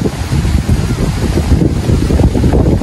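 Strong wind buffets the microphone at a seashore after a typhoon, a loud continuous roar with rough gusty rumble and faint surf underneath, no talk.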